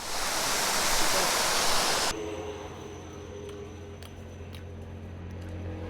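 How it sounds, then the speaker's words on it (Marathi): Kumbhe waterfall in Maharashtra roars loudly and steadily for two seconds, then gives way to a softer, continuous rush of water. "हे बघा मस्त असा वॉटरफॉल आहे"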